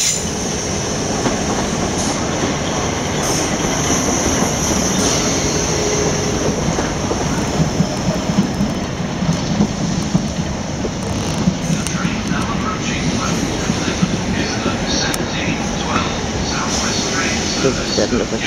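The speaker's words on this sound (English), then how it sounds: "The train now approaching platform 13" Train rumbling into a platform at Clapham Junction station, a steady loud roar of wheels on rails with faint squealing and clicking, under station announcements.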